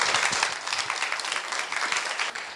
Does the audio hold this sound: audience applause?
yes